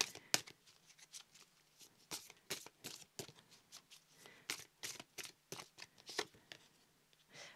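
Tarot cards being shuffled by hand in bursts of crisp riffling and slapping, close and fairly quiet, with no talking.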